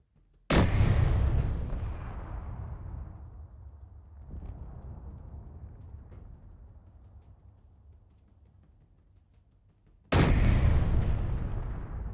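A Mammoth Tank's cannon firing in a video game, two heavy booming blasts about ten seconds apart, each with a long rumbling decay, loud and close.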